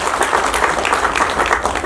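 An audience claps steadily for the President at a coronation anniversary function, a dense, continuous wash of applause with no voices over it.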